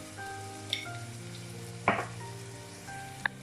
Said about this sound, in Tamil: இப்போ நம்ம வச்சிருக்க வெங்காயத்தை ஆட் பண்ணிடலாம். இப்போ வெங்காயம் நல்லா வதங்கட்டும்.